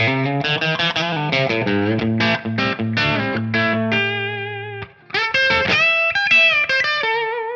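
Electric guitar played through a Soldano SLO amp tone on a Tonex, pushed to the edge of breakup: strummed, slightly crunchy chords with sustained notes, then a stretch of ringing single-note lines, loud and alone.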